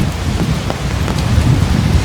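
Steady rain falls on the streets of Copacabana in Rio de Janeiro, a dense, continuous hiss of drops on pavement, close and loud with no break.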